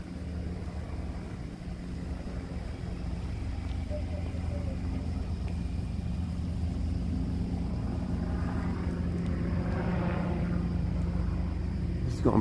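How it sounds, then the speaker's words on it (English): Steady low aircraft rumble from a police helicopter or plane passing overhead, a continuous droning hum that swells slightly as it nears, heard outdoors over distant traffic noise with no talking. "Sounds like the chopper's finally getting over here. Or maybe it's a plane."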